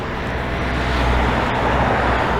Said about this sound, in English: It's kind of noisy with all this traffic.